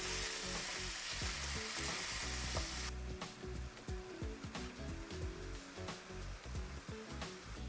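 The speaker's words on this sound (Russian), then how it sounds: "Обжариваем грибы на среднем огне 5-7 минут" Mushrooms sizzle and crackle steadily in a hot pan over medium heat, with scraping stirs and bursts of spattering, close and fairly loud, no voices.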